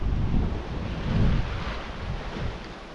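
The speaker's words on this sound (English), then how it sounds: "The wind's about between 10 and 15 knots, so we're doing a nice speed." Wind and sea wash roar steadily around a yacht sailing wing on wing in 10 to 15 knots of wind on the Java Sea, a continuous rushing surge with gentle swells of loudness and no voices.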